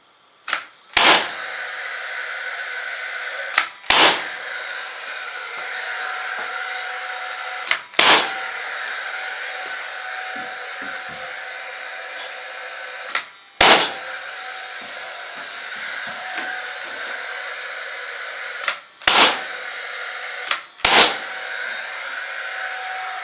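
Paslode framing nailer firing 3 1/4 inch glued nails into a wooden beam on a horse barn deck extension: six sharp, loud single shots spaced several seconds apart over a steady background hiss.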